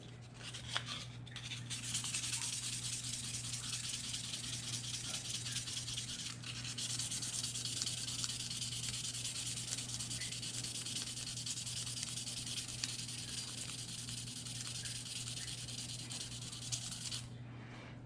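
Stainless steel part of a Taurus G2C pistol polished with 1200-grit sandpaper, a steady close scratchy rubbing hiss that runs continuously for most of the stretch over a low constant hum, with a brief break near the start.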